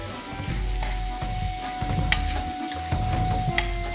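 Meat roulades cook gently in a pan over low heat, giving a steady close sizzle and crackle with occasional soft stirring scrapes and no talking.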